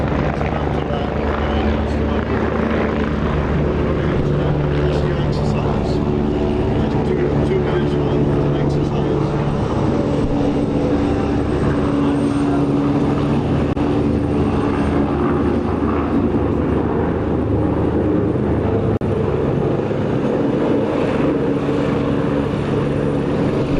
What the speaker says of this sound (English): Oh, a helicopter is so close to the ground.